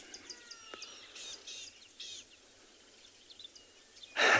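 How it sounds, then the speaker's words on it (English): Several short bird chirps and calls sound at a moderate distance at a South African safari waterhole in the morning, over quiet outdoor ambience, followed by a brief loud rustle near the end. "the birds that we can hear"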